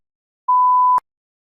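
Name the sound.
beep signalling start of response preparation time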